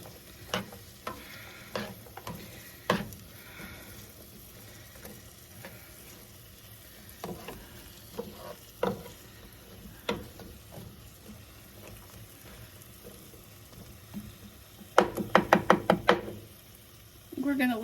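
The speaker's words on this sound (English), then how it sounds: "We're gonna let these fry." Potatoes frying in a pan for a farm-style lunch, a soft steady sizzle with scattered knocks and stirring clatter, and a brisk burst of utensil scraping near the end.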